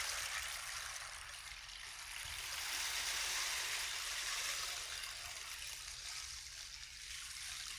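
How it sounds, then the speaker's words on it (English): Steady, soft rush of flowing water played during a guided meditation, a continuous stream-like wash with no voices over it. "imagine these sounds as literal water washing over you, purifying, cleansing, releasing, surrendering"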